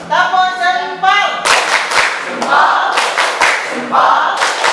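A school class performs a rhythmic clapping chant, tepuk jempol, with students' voices chanting in unison followed by loud, sharp group claps in a patterned rhythm, close and lively.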